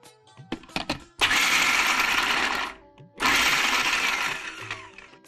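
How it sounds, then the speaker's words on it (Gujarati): A mixer grinder coarsely grinds toor beans with a little salt and water: a few clatters, then two loud, close whirring bursts of motor and rattling grain separated by a short pause. "જસ્ટ અધકચરા જ વાટવાના છે."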